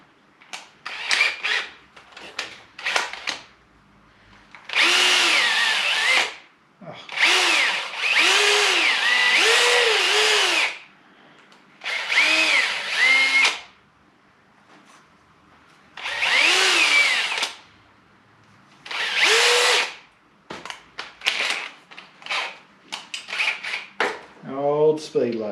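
Power tool on an old speed lathe cleaning a clutch pivot ball from a Courier, whirring in repeated loud bursts of a few seconds with short pauses and light clatter between.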